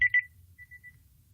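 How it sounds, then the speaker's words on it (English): A cell phone rings during a tabletop role-playing game session, giving two quick bright electronic chirps followed by a fainter sustained tone, fairly loud and close, with no talking over it. "cell phone is quite loud"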